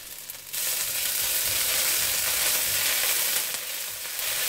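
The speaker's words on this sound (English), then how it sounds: "And then I put in my garlic." Garlic hits a hot wok of sizzling chow mein, a loud, bright frying hiss that bursts in after a brief quiet start and holds steady close up.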